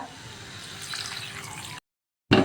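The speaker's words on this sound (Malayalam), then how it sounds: "ഇനി ഇതിലേക്ക് ഒഴിച്ചു കൊടുക്കേണ്ട ചുടുവെള്ളം ഒഴിച്ചു കൊടുക്കുക." Hot water poured into a cauliflower masala in a pan makes a soft, close splashing and gurgling for under two seconds, then a short, louder burst follows a sudden break.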